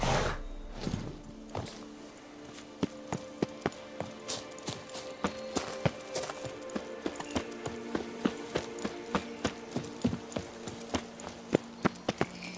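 Horse hooves clip-clop in The Witcher 3 video game, a steady walking rhythm of close, crisp hoofbeats repeating at an even pace for several seconds after a short quieter lead-in.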